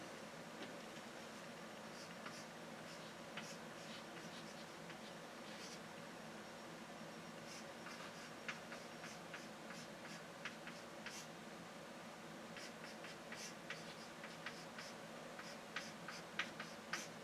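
Pen scratching on paper while working out a cross product and parallelogram area problem, a faint, steady scraping with small ticks and taps that grow more frequent toward the end, close and quiet, without talk.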